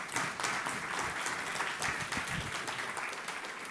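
An audience at a health and nutrition summit claps for a panel, a steady, moderately loud round of applause that lasts several seconds.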